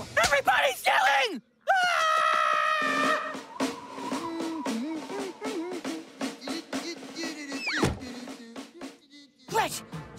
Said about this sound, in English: Everybody's yelling!